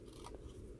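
Scissors snip through scrapbook paper while a banner is cut, giving a single short, close crunch over a steady low background.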